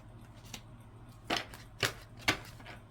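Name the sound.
shuffling tarot cards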